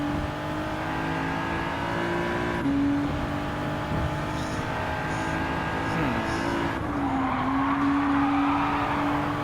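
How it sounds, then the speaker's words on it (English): Race cars in Gran Turismo 7 brake hard into turn one, engines droning and downshifting in pitch among several cars in close formation, with tire noise and a voice talking underneath. "Sounds like a good formation to have 6 cars coming in."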